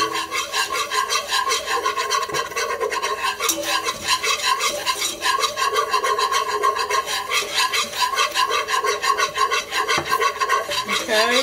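Chicken pot pie soup is whisked steadily in a pot, a continuous, fast, rhythmic scraping and swishing of the whisk against the metal that stays loud and close without a break.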